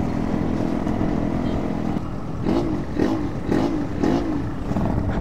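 A Yamaha RX-King 138 cc two-stroke motorcycle drones steadily on a night ride, then its engine is revved in several rising bursts, close and loud under wind rumble.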